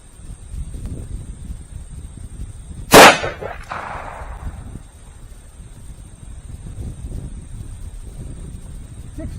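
A single sharp, loud .44 Magnum revolver shot with a 200 grain XTP reload cracks once outdoors and is followed by a brief fading echo, with low wind rumble before and after.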